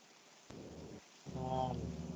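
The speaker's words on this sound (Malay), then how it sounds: "Lebat hujan." Heavy rain pours steadily, with low rumbling surges of thunder rolling in close and loud over the constant hiss, no talking.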